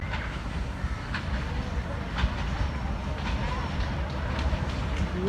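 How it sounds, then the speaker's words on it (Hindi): The Millat Express, the 18 Down train led by locomotive PH28 with a KCR coach and CFI coaches, rumbling past nearby with a loud continuous roar and faint rail clatter, while a voice talks over it. "पहुंच चुकी है हमारी 18 डाउन मिलत एक्सप्रेस"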